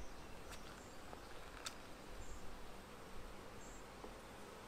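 Faint, continuous buzzing of many honey bees around a hive, with a few sharper passes of individual bees, distant and low against a soft outdoor background.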